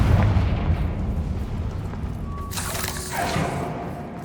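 A Confringo fire spell goes off in Hogwarts Legacy, a rumbling, booming blast with a bright burst midway through, set against low game ambience and no voices.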